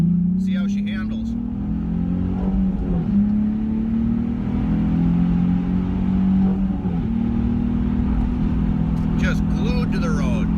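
A Nissan 350Z's V6 engine accelerates along a back road, heard from inside the car as a steady mid-pitched drone that rises and dips with shifts and throttle changes.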